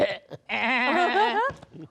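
A man imitates a goat's bleat with a wavering, nasal vocal call lasting about a second, framed by brief breaths, close and clear.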